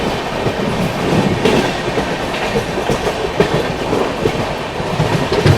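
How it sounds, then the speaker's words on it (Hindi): Haldia–Anand Vihar Express passing close by, a loud continuous rumble of rolling wagons with rhythmic clickety-clack of wheels over rail joints, steady throughout with no voices. "उस ओर से जा रही है हल्दिया आनंद विहार एक्सप्रेस"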